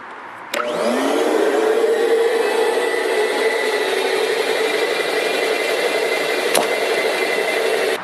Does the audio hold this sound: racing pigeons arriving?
no